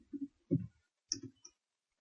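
A few soft keyboard clicks come in small clusters as a command is typed into a computer terminal, faint and close with quiet gaps between them.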